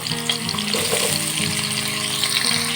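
Two medium-sized potatoes, peeled and cut into pieces, frying in oil left in a wok after frying prawns, a dense continuous close sizzle with faint bubbling, no voices.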